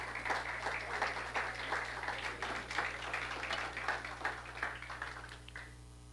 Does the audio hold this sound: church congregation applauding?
yes